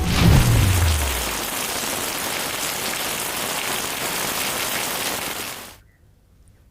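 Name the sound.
heavy rain in Surat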